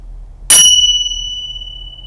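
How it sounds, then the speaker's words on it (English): A single bright metallic tingsha chime rings out sharply, its clear high tones lingering and slowly fading over a low background hum. "you will hear the cleansing tone of the tingshas"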